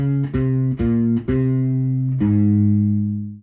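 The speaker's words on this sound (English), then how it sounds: "And with the distortion it sounds pretty cool." A distorted, low bass ukulele tone plucks a few single notes in succession, the last one sustained and slowly fading out.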